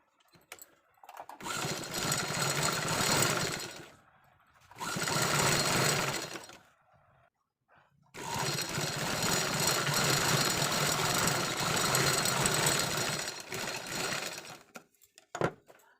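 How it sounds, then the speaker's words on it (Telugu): A sewing machine stitches folded old denim jeans in three bursts of rapid, steady whirring, near and fairly loud, with short silent pauses between runs. "కుట్టు వేసుకొని ఇటు సైడ్ నుంచి స్టిచ్చింగ్ చేసుకోవాలి"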